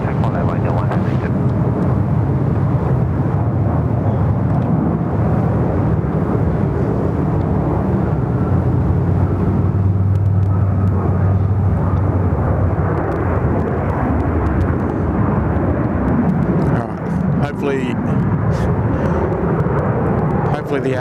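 Airliner at Sydney Airport lining up on runway 34 left, a continuous heavy engine rumble and whine at a distance, with radio voices talking over it throughout.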